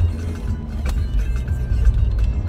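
Car passing on a road in Bagneux, a steady low engine and tyre rumble close by with no talk.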